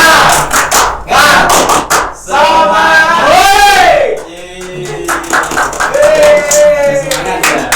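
Students in a class chant and clap a rhythmic spirit clap in unison, sharp group hand claps in quick patterned bursts mixed with loud shouted voices, close and energetic.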